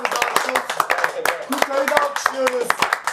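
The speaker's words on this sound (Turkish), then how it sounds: "Heyecan Muti'yi de alkışlıyoruz." A studio audience at a Turkish rap show claps in sharp, scattered bursts, loud and close, while voices call out and talk over the clapping throughout.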